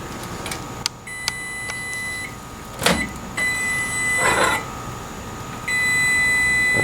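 A microwave oven with a newly replaced magnetron heats water, running with a steady, low hum, broken by a few short, sharp electronic beeps and clicks close by.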